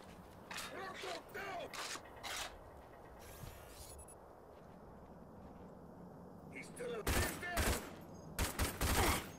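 Bursts of gunfire in RAGE on PC at nightmare difficulty, several short volleys of rapid shots near the start and again near the end, with metallic mechanical clanks and someone talking in between.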